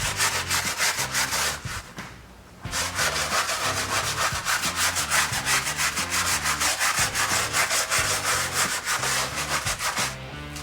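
Steady rhythmic scrubbing of a brick, a coarse rasping stroke repeated quickly and evenly, close and loud with one brief pause, no talking.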